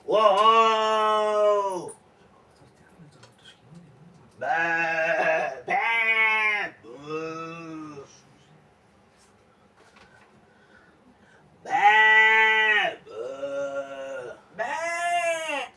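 Sheep at a mountain sheepfold at Easter bleat loudly and close, several drawn-out wavering calls coming in clusters with quiet gaps between.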